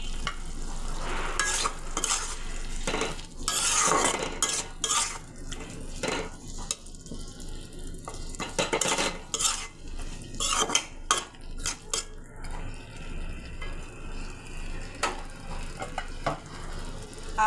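A spoon stirs spice paste with chopped spring onions in a metal pan, clattering and scraping irregularly against the pan over a soft background sizzle of frying.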